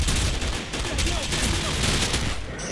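Rapid automatic gunfire and bursts of shots fill a Call of Duty match set in Rio's Rocinha favela, dense and continuous throughout, loud and close with explosive crackle.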